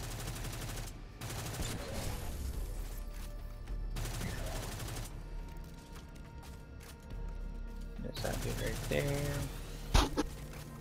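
Rapid video game gunfire from a weapon loaded with armor piercing rounds, in a Destiny-style Master solo Perdition run, crackling in repeated bursts with a sharp loud shot near the end, while a player talks over it.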